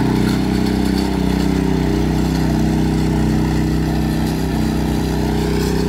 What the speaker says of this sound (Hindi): ये एक ट्रैक्टर ही है जी, ये हमने ट्रैक्टर के ही मॉडल बना दिया।